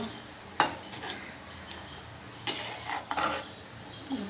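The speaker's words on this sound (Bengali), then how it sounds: "এবার মাছগুলো আমি এবার দিয়ে নেবো মশলাগুলো লেড়ে নেব" Fish and spices stirred in a pot of boiling curry broth: a spoon scrapes and clinks against the metal in a few sharp, irregular knocks, with a faint simmering hiss underneath.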